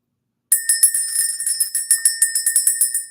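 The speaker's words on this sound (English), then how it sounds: "Let's ring the bell" A small bell is rung quickly and steadily after a moment of silence. Its bright, ringing strikes repeat about fifteen times, loud and close.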